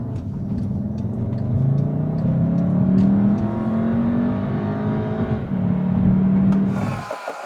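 A Volkswagen pulls hard on a test drive, its engine droning loudly with rising and falling pitch through gear changes, ending in a sudden drop in load near the end.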